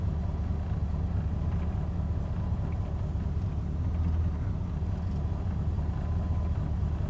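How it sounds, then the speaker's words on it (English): A 1986 Corvette engine idles steadily on its own after a mass air flow sensor replacement, giving a low, even rumble that holds without revving for several seconds. "It idled without me even giving it any gas."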